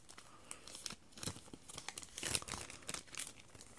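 A Pokémon Lugia Break booster pack being torn open, quiet close crinkling and crumpling of foil wrapper with a sharp tearing rip partway through, no talk.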